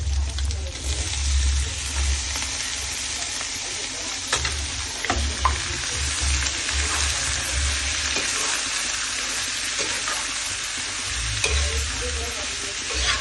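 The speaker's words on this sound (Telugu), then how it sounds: "ఇలా కొద్దిగా బాగా వేగిన తర్వాత మనం ముందుగా శుభ్రం చేసుకున్న ఆ బోటిని వేసి కలపాలి ఫ్రెండ్స్." Goat tripe (boti) frying with onions in a pan gives a steady, loud sizzle that crackles continuously throughout, with occasional stirring scrapes.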